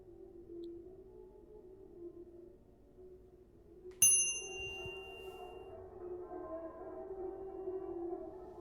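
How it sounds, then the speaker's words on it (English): A single sharp bell strike rings out at a hotel reception, its bright tone decaying over about a second above a quiet ambient hum. "let's ring the bell"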